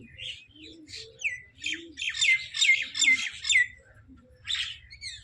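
Mynas call outdoors at moderate distance, giving a series of chattering chirps and squawks in bursts, with a few softer low coo-like notes and quiet background, no talking.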